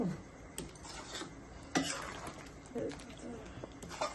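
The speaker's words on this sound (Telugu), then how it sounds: "గట్టిగా తిప్పుకుంటే" Chicken curry is stirred vigorously in a pan, with faint, irregular scraping and clinking of a spoon against metal over a low background hiss.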